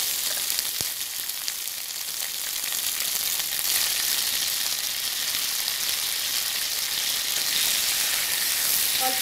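Drumstick (sajne data) stems frying in a pan with potatoes, a loud dense hiss and crackle of hot oil that grows steadier and fuller, no talk.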